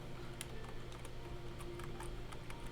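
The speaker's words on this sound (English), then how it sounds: "Loud typing there." Rapid clacking keystrokes on a computer keyboard, irregular bursts of sharp clicks close to the mic over a low steady hum, continuing throughout.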